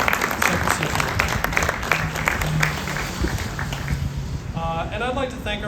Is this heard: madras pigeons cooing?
no